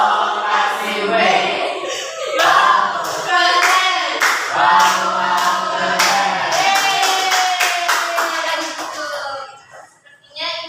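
A primary-school class performs the rhythmic tepuk aram pisang clapping routine, with bursts of group claps and bright children's voices chanting and singing over them, lively and fairly close throughout.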